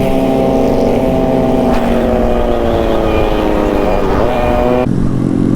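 A group of motorcycles on a charity ride accelerates away together, some riders lifting into wheelies, their engines a loud, sustained roar with rising and falling revs close by.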